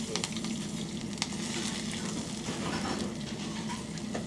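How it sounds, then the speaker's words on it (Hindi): Chopped onion and whole spices sizzle in hot mustard oil, a dense, continuous frying hiss with a few faint stirring taps, close and steady throughout. "इसके बाद हम डालेंगे इसमें चॉप ऑनियन।"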